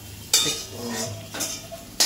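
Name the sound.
stirring and frying in a wok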